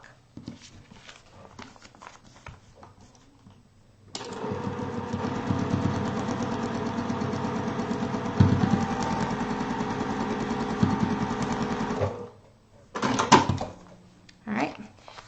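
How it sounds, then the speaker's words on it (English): A sewing machine stitching fabric on a foundation paper-pieced quilt block runs in one steady mechanical hum for about eight seconds, then stops, with light handling noises before and after. "Now I'm going to stitch, starting my fold on and off the block."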